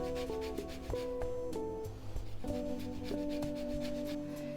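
An orange peel is lightly rasped on a zester, giving soft scraping rubs in short repeated strokes close by, with faint kitchen hum behind.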